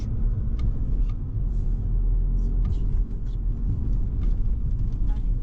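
A car on a driving-school lesson speeds up along a stretch of road, heard from inside as a loud, continuous low engine and road rumble with faint clicks over it.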